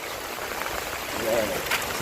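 Steady rushing wash of running water flooding a country road in rural Jamaica, a continuous broadband roar that stays fairly even throughout, with someone talking over it.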